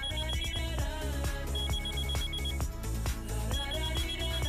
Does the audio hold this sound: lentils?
no